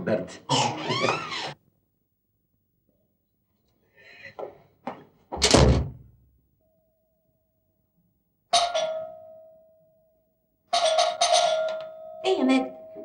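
An apartment doorbell in an Egyptian film rings twice as a steady buzzing tone, first alone and then again as a longer ring, with bits of talk and a door thud around it.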